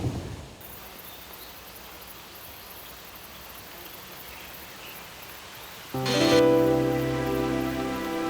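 Steady rain falls in a mountain valley, a soft, even hiss lasting several seconds, before a louder, brighter burst of sound cuts in near the end.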